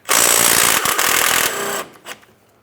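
A power tool spins out a mounting bolt behind the serpentine belt on a 2008-2016 Chrysler Town & Country engine: a loud, steady whirring buzz for under two seconds, then it stops with a few small clicks, and no one talks.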